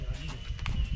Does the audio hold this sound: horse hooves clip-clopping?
yes